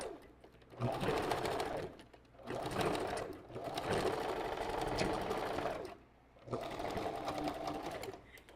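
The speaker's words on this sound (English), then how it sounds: "we backstitch it right in the front of the closure" Sewing machine backstitching across the front of a wig closure, rapid close mechanical stitching in several bursts separated by short pauses.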